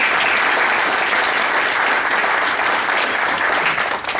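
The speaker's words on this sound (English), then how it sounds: "Let's give him a round of applause." Steady applause fills a Republican Party county meeting room after an officer is sworn in, dense clapping throughout that tapers slightly at the end.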